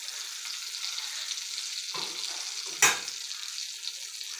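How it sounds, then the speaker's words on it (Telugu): Chandwa fish sizzles steadily in hot oil, a constant close frying hiss with a sharp spatter crackle midway. "ఇదే ఆయిల్లో ఇంకొక ఫిష్ని కూడా ఫ్రై చేస్తున్నానండి"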